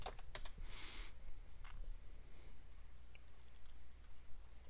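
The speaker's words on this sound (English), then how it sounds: "let's give him a logon name as Errol" A logon name is typed on a computer keyboard during Windows Server Active Directory setup, a few quiet, close key clicks in a short burst and then scattered single taps against a low background hum.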